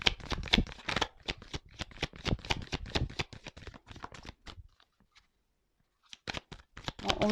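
Tarot cards are shuffled close by in a rapid run of crisp riffling snaps, then a short pause, then a few more flicks as cards are drawn, with no talking.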